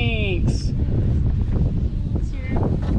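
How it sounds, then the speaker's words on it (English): Strong wind buffets the microphone in a steady low rumble on open water while kayaking, with brief whistling tones and people talking over it. "Is it windy enough for you? Yeah. It's pretty windy."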